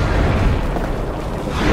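An explosion pack detonates in a Normandy invasion war video game, a loud, dense rumbling blast filling the whole clip with a sustained boom and no clear talk.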